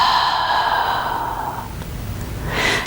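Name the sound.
exhaling breath during chair yoga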